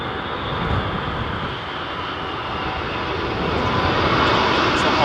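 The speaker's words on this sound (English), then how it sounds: "It's an autopilot landing," An airliner on an autopilot landing at Heathrow in storm-force winds, a continuous rumbling engine and wind roar that swells slightly toward the end, with no voices.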